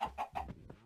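A chicken in the video game Sky Block survival gives three quick clucks followed by a softer trailing cluck, close and clear with no talk.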